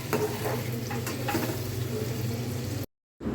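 A paste of blended dried lotia fish and onion sautés in a pan, a steady close sizzle with stirring scrapes, ending in a sudden cut to silence before it resumes.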